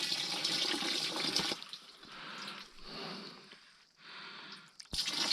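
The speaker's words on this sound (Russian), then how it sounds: "Немножко им дадим воды." Water poured into a container holding small lake minnows: a close, splashing gush that runs, pauses and resumes, ending with a sharp splash.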